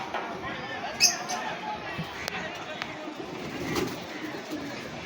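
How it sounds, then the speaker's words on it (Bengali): Teddy pigeons cooing at close range, low soft coos under a steady background murmur, with a short brighter sound near the start. "কবুতর"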